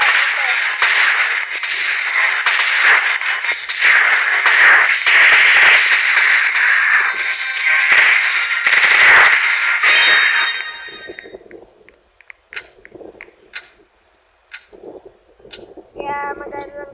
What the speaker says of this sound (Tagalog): bumaril lang ako